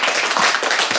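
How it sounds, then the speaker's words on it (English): A small group clapping for themselves, a brief, close burst of dense hand claps with no voices. "So give yourselves a big round of applause."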